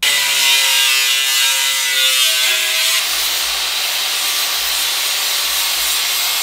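Angle grinder working metal along a straight edge in a garage, a steady loud abrasive hiss and whine that shifts in tone midway and continues without pause, no talking.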